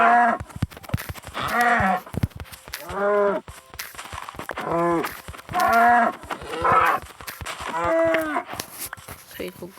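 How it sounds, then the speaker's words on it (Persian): A cow mooing in the Minecraft video game, a series of about seven loud, close, drawn-out moos repeating at a steady pace, with clicking game sounds between them. "گاو."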